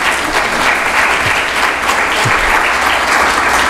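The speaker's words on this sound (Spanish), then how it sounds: "Nunca me han aplaudido tan rápido." A lecture audience breaks into loud, sustained applause, a thick, even roar of many hands clapping that holds steady throughout.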